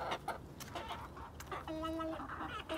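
Several chickens cluck and murmur close by, one giving a drawn-out, wavering call, with scattered rustling in the background.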